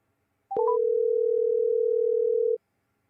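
After a failed phone call to a full voicemail box, a short chirp gives way to a steady, clean telephone dial tone that holds for about two seconds and then cuts off, with silence around it.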